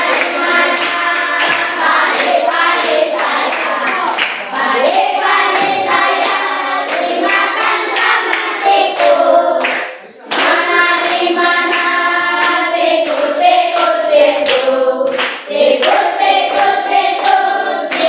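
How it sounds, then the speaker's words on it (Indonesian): A primary school class sings a food chain song while the other children clap their hands along in a steady rhythm, the claps close and mixed under the loud group singing. "Ya, bantu yang lain tepuk tangan."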